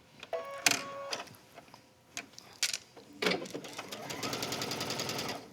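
A sewing machine running a straight stitch on knit fabric: a few short clicks and starts, then a fast, steady mechanical whirr of stitching near the end.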